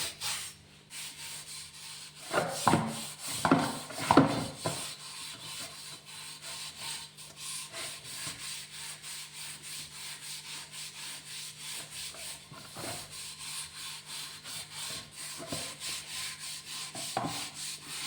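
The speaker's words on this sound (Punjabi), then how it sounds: "ਹੁਣ ਪਤੀਲੇ ਨੂੰ ਚੰਗੀ ਤਰ੍ਹਾਂ ਨਾਲ ਸਕ੍ਰੱਬ ਦੇ ਨਾਲ ਸਾਫ਼ ਕਰਾਂਗੇ" A scrubber rubs hard against a blackened cooking pot, giving a few loud scraping strokes followed by a long run of steady, rhythmic scrubbing close by.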